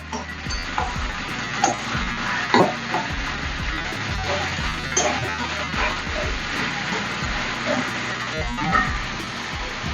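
Ginger paste being stirred into a bottle gourd and gram curry in a pan, with steady scraping and soft sizzling plus scattered clinks of the spoon throughout.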